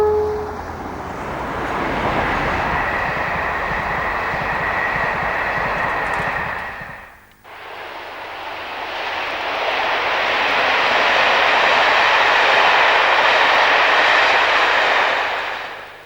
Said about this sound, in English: As 37424 heads for Weymouth with the 1433 from Bristol